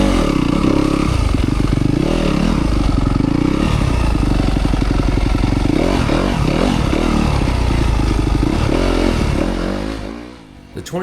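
A 2025 Yamaha YZ250FX dirt bike rides single track, its engine buzzing loud and close with repeated throttle surges and rev changes, plus clatter of the chassis over rough ground, fading briefly near the end.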